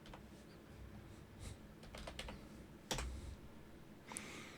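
A run command typed on a computer keyboard running Kali Linux: a few quiet, scattered key clicks close by over a faint background hum, with no talking.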